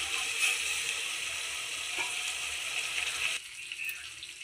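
Ground onion-tomato paste for fish curry sizzles and fries steadily in a hot pan, a continuous bright hiss that drops back somewhat after a few seconds.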